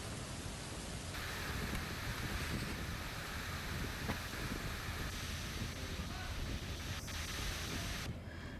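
Heavy downpour with gusting wind in Gujarat, a dense, loud, unbroken roar of rain and wind buffeting the microphone for the whole stretch, with no voices.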